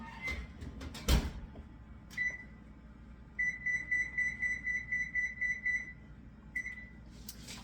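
An oven control panel beeps as its temperature is set, first a single short beep and then a quick run of about eight rapid, evenly spaced tones with another beep just after, all close and clear over a faint kitchen hum.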